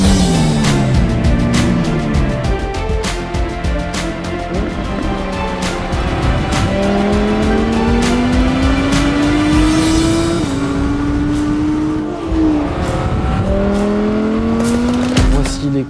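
A 2023 Audi R8 V10 GT RWD sports car with a naturally aspirated V10 engine revs and accelerates through repeated gear changes, loud and close, with rising engine pitch and a sharp upshift break.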